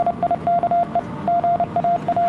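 Inside a Tesla on a Top Gear test-track lap, a short run of Morse-like electronic beeps plays, quick irregular tones of one pitch over a low background rumble.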